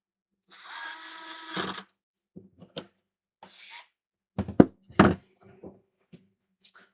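A drill-style screwdriver whirs in a sustained burst while driving screws during an electronics repair, followed by scattered knocks, clicks and light handling thunks of tools and parts close by.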